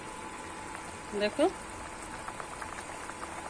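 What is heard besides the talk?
hilsa fish and eggplant curry boiling in a pot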